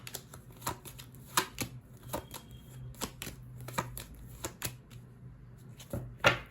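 Tarot cards are shuffled and drawn, producing a string of soft, close flicks and snaps of card stock at an uneven rhythm, with a louder rustle near the end.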